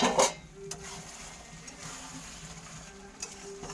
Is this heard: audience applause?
no